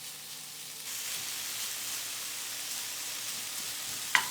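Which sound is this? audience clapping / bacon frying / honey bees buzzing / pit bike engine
bacon frying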